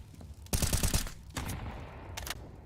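Rapid bursts of gunfire in a Counter-Strike esports match, a dense volley of shots up front followed by shorter, fainter bursts, with no voices.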